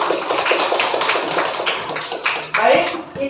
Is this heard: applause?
yes